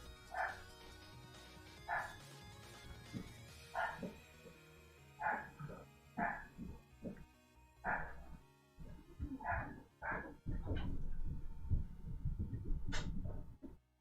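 Several dogs go off indoors, giving a string of sharp, separate barks and yips that grow busier toward the end, moderately near and fairly faint, with no one talking.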